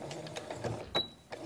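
A sewing machine back-stitches the end of a zipper seam in a short, quiet run of rapid mechanical stitching ticks with a brief pause, heard close up.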